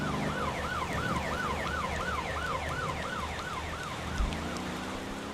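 Police car sirens in the driving game Motor Town wail in a steady rising-and-falling cycle over a low engine rumble, fairly loud and continuous with no talk.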